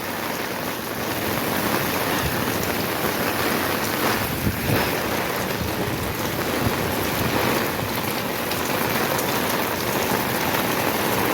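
Steady, heavy rain pours down in a village, a dense continuous hiss with gusts of wind mixed in, close and loud throughout with no voices.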